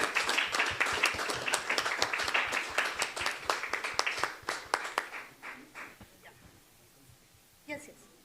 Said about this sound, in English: Now let's please give a big round of applause once again.